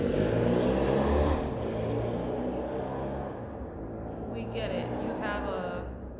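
A loud motorcycle rumbles past on a city street, its engine whirring and fading as it moves away, with traffic noise continuing in the background.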